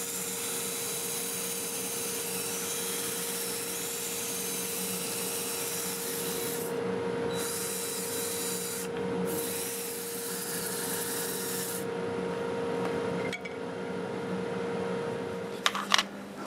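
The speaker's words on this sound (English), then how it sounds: "That lathe running about 400. Use a 120 disc is what I have on here. So we'll get this all sanded up to 400" Dry apple wood turning on a lathe at about 400 while a 120-grit disc sands it, giving a steady rough rubbing hiss over a motor hum for the whole stretch, with a few short gaps and a sharp knock near the end.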